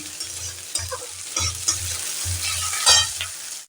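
Ginger paste fries in a pan on low gas and is turned back and forth, giving a bright sizzle with scraping strokes of a spatula over a low steady hum.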